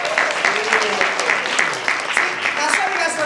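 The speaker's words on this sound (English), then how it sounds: "Maybe you don't even know why you're clapping." A theater audience at a live magic show claps in a dense, steady wash of overlapping handclaps, loud and close, with a few voices mixed into the crowd noise.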